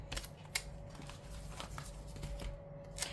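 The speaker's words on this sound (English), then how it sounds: "So I'm just cutting" Scissors snip through paper for a planner sidebar in a few short, crisp cuts, with a soft steady room hum underneath and no one talking.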